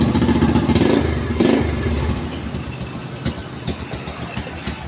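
A motorcycle engine cranks and catches, then settles into a steady, rumbling idle close by, loudest at the start.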